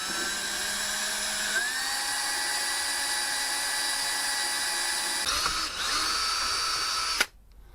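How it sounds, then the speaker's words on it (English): A power drill whines steadily and loudly for about seven seconds as it drills out metal on a primer spray gun, its pitch shifting slightly as it bites, then cuts off abruptly. "let's try and keep the drill straight, and we'll just drill out."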